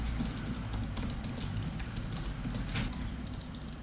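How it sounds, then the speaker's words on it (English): Steady typing on an older iPad keyboard case, a dense stream of soft, quiet key clicks close by over a low background rumble, with no voices. "now the same sentence typed on my old keyboard."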